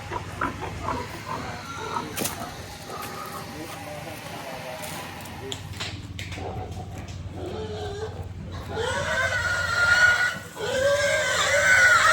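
Pigs and piglets grunt and squeal nearby on a farm amid corn, the squeals growing louder and more insistent toward the end, with people talking in the background.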